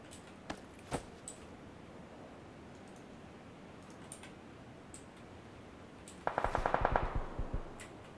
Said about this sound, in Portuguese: Eu vi tiro ali.